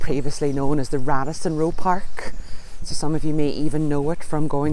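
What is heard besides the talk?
No everyday noise stands out behind the speech.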